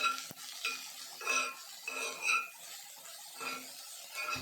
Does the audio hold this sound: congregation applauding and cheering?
no